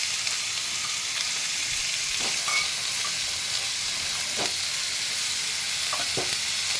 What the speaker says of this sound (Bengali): এবার আমি মাটনটা দিয়ে দিচ্ছি। তার সাথে দেখো ছোলার ডাল, ভেজানো ছোলার ডালটা দিয়ে দিলাম।